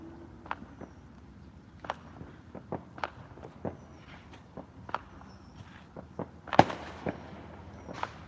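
Sharp isolated pops from a .380 pistol being fired outdoors at night, scattered irregularly at moderate distance with one louder, nearer crack, over faint background ambience.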